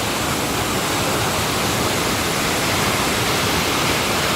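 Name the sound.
waterfall in Antalya, Turkey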